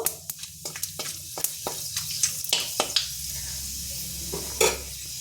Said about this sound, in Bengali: দিয়ে এবার আমি এটা ফোড়নটাকে ভালো করে ভেজে নেব